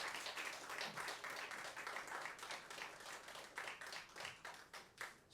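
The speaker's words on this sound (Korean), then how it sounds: "다시 한번 큰 박수 부탁드리겠습니다." Audience applause after a haegeum sanjo performance at a Korean traditional music gathering, a dense, sustained clapping of many hands that holds steady throughout with fluctuating intensity.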